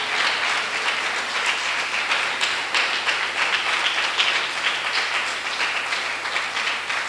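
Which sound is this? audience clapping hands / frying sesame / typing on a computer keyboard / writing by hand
audience clapping hands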